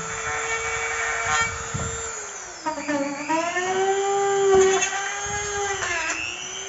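A power drill whines as it bores holes through PVC, its high motor pitch sagging and recovering under load, close and loud with steady grinding.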